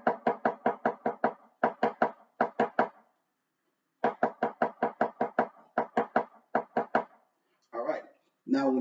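Marching snare drum playing the 'E anda' rhythm, 16th notes missing the first right-hand stroke: loud, close, evenly spaced groups of crisp hits with a gap midway, followed by speech at the close.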